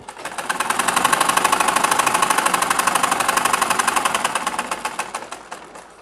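Sewing machine stitching the hem of trouser pajamas, a rapid, evenly pulsed run of stitches that builds up quickly, holds a steady pace, then slows toward the end, close and alone.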